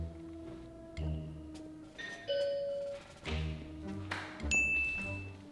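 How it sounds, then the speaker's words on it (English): A household doorbell chime, recorded and played back through a small speaker, rings out several separate ding-dong tones in succession, clear and fairly close with no talking. "I recorded the sound of our doorbell and I'm gonna play it off of this speaker to prank my mom."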